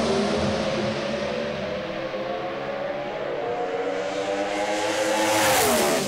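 A drag racing car revs hard at the start line and launches, its engine note climbing to a screaming rev limiter, loud and close, with a rising whine at the end and no speech.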